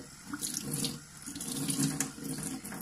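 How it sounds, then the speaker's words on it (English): Cold water runs steadily from a tap onto an acrylic batik painting on heavy watercolour paper, rinsing off Indian ink. It makes a close, continuous splashing rush that swells and eases slightly as the flow is moved. "Just with some cold water, you want to lift off the Indian ink nice and gently."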